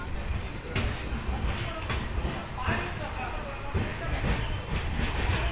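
A diesel train rounds a curve near Kamakhya Junction, Guwahati, its steady rolling rumble punctuated by a few evenly spaced wheel clacks, heard fairly faintly and up close.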